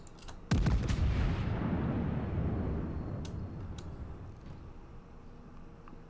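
Heavy battleship guns in the naval game World of Warships, on the Izmail, fire a broadside: one big booming blast whose low rumble rolls on for several seconds and slowly fades, with small crackles on top.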